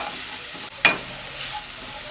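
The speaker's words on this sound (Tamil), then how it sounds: "இதெல்லாம் போட்டு நல்லா வதக்கிக்கலாம்." Garlic, curry leaves and chillies sautéing in hot oil for a raw banana fry give off a steady, gentle sizzle, with one brief clink near the middle.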